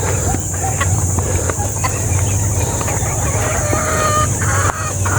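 Chickens cluck and a rooster crows among a busy flock, with steady background hum and scattered calls overlapping throughout.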